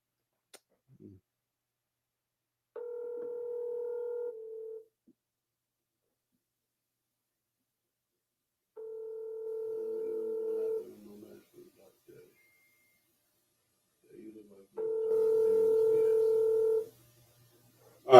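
An unanswered phone call rings out in three separate long steady tones with silent gaps between them, with faint handling clicks in the pauses.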